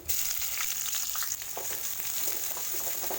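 Chopped onion fries in a pan for an aloo methi dish, giving a loud, continuous close sizzle with light crackles and a brief stir partway through, and no speech.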